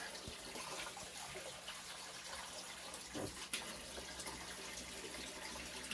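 Water trickles gently into potted pepper seedlings indoors, a faint, steady pouring hiss with a soft splash or two, no one talking.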